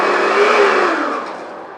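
A Karcher K2 pressure washer runs and sprays in a steady, loud broadband hiss with a motor hum beneath, easing slightly lower as it goes on.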